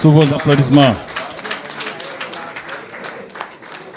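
Applause at a beach soccer trophy presentation ceremony, the CAN Beach Soccer, as a player presents his best-player award; a voice speaks briefly at the start, then scattered crowd clapping continues at moderate level.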